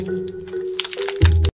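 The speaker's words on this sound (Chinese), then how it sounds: "骨折的声音是折断蔬菜的声音。" Vegetables snapped as a bone-breaking sound effect: a dry crunching snap lands near the end, loud and close, after quieter rustling, with no voices.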